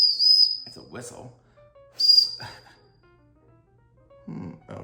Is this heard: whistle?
yes